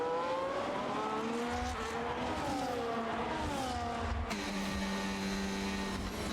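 Race cars on a Saudi Arabia circuit roar past and accelerate, engines whining up through the gears with steady, loud pitch sweeps and a sharp shift change midway, continuous without talk.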